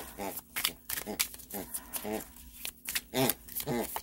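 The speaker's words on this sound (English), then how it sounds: "If you hear squeaking, that is my dog with a porcupine thing." A dog chews a porcupine-shaped squeaky toy, producing a string of short, high, nasal squeaks at an irregular rhythm, close and moderately loud, with quiet shuffling between them.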